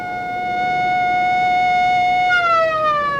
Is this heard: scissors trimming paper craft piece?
no